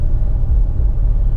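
Toyota MR2 engine idles with a low, steady rumble, close and fairly loud, without speech.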